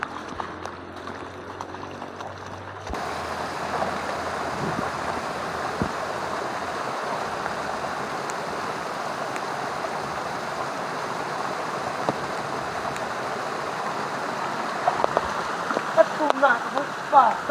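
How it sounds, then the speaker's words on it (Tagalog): A swollen fishing river runs fast after heavy rain, its flowing water making a steady, broad rushing wash that stays constant and fairly loud throughout. "lumakas yung agos ng tubig"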